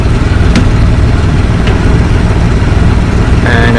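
A Honda Goldwing GL1500 engine fitted to a side-by-side runs steadily nearby, a loud, low, continuous idle rumble with faint clicks and a brief higher whine near the end.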